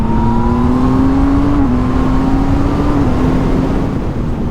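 A 2020 Yamaha MT09 motorcycle with a full MIVV exhaust line and an up-shifter accelerates hard, its engine note climbing steadily with two quick gear shifts, a loud, close-up rasp.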